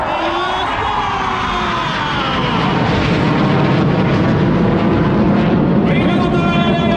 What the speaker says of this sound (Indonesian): Along five akan melakukan bombers maneuver